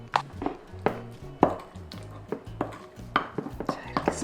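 Seasoned spinach and squid side dish, dressed with chili paste, sesame oil and garlic, is tossed and mixed in a bowl, producing close, irregular knocks, clinks and soft squelches in steady bursts.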